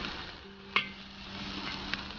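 Chicken gizzards stir-frying in a wok, a soft steady sizzle with one sharp clank of the spatula early on and a fainter knock near the end.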